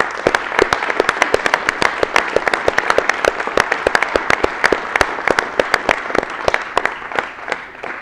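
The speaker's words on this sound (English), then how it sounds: "I think we can give them a massive round of applause." Loud, dense audience applause at a college visit and competition, many hands clapping fast and continuously close by, tapering slightly at the end with no voices on top.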